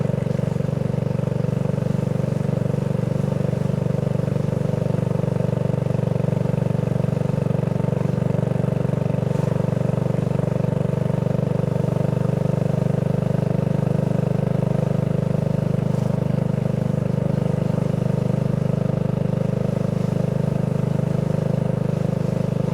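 A BSA Goldstar 650 motorcycle rides over a washboard road surface, its engine droning steadily and loudly throughout with a constant low rumble and no talk.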